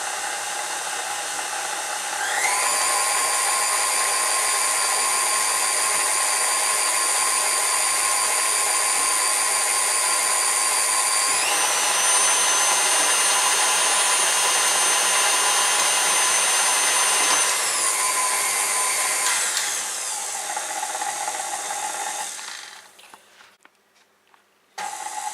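Electric stand mixer whirring steadily as it mixes Irish soda bread dough of butter and buttermilk, a loud continuous high motor tone with pitch shifts between speed settings, then cutting off near the end.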